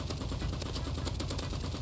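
Rapid automatic assault-rifle fire in the Roblox shooter Rivals, a dense continuous burst of loud shots lasting the whole moment with no talk over it.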